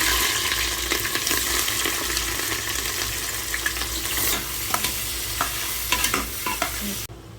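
Onion, green chili and whole spices such as cinnamon, cloves and cardamom sizzle steadily in hot oil in a pan, with scraping stirs and clinks throughout, for chicken biryani; the sound cuts off abruptly near the end.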